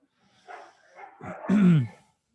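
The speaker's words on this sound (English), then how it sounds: "some dogs are getting cray out there" Several dogs bark and yelp outdoors in a short burst, growing louder and ending in a sharp, close bark, with no talking.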